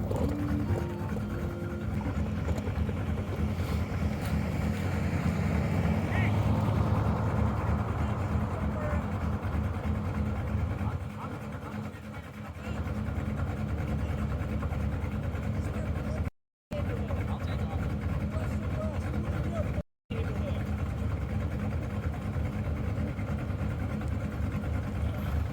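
A car fitted with a new Borla Atak exhaust pulls away, giving a steady low engine rumble with a brief dip in level midway through before the drone resumes.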